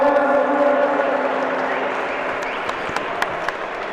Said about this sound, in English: giving him another applause for his awesome performance